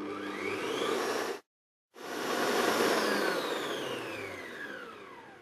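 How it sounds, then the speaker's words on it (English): An electric stand mixer whisks egg whites to stiff peaks for a meringue roulade, giving a steady loud whirring drone that cuts out for about half a second and then resumes, with no talking. "So pop it into your mixer."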